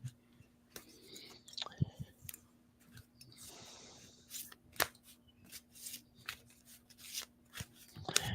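Tarot cards being shuffled and pulled from the deck during a live reading, giving quiet close riffles, soft slides and scattered sharp clicks in an irregular rhythm, without talk.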